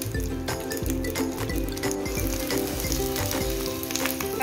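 Green chillies fry in hot oil in a kadai on the stove, a steady close sizzle with crackling pops running throughout.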